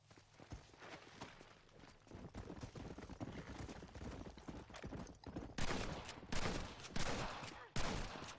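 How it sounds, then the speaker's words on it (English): Gunfire in the video game Red Dead Redemption 2 multiplayer, a dense run of shots and bursts, near and loud, with stronger volleys toward the end and no talk. "They're shooting me now."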